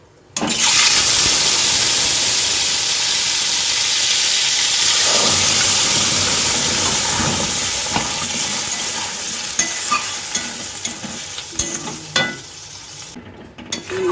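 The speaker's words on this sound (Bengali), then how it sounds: "এবার আমি থোটটাকে আস্তে আস্তে করে এখানে দিয়ে দিচ্ছি" Banana stem dropped into hot oil in a wok bursts into a loud, steady hiss and sizzle that fades gradually, with occasional stirring clicks near the end.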